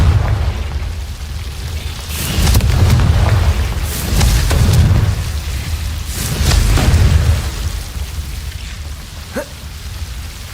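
Confringo fire-blast spell cast in Hogwarts Legacy, a series of deep rumbling booms and bursts swelling and fading over a low roar, loud and close, with no talking.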